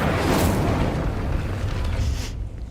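The Incendio fire spell from Hogwarts Legacy, heard as a sustained, dense whooshing burst of flame with a deep rumbling body, loud and close, tailing off abruptly at the end with no voices.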